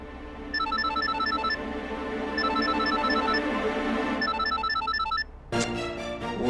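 A telephone rings in repeated bursts of a melodic electronic tone, loud and close, cut off abruptly near the end by a brief different chime.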